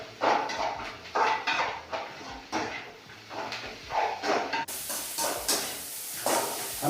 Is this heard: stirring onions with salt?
yes